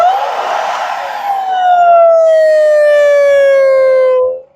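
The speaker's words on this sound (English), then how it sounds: "so that loud whine on wind down there is most likely actually the HEPA filter" A Dyson Ball vacuum cleaner with a clogged HEPA filter winds down with a loud, steady whine that slowly drops in pitch over several seconds and then cuts off.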